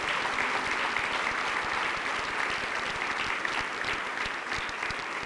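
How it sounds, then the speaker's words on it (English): Audience at a fire recruit class graduation ceremony in Newark claps in sustained, dense applause, loud and steady throughout with no pauses. "Can we put our hands together and just clap"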